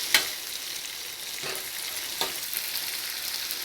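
Capsicum and tomato pulao vegetables frying in a pan, a steady hiss of oil with a couple of light scrapes of a spoon stirring, close and alone.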